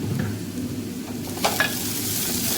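Red chili powder sautéing in hot oil in a pan for eggplant bharit, a steady close sizzle with a few stirring scrapes near the middle, no voices.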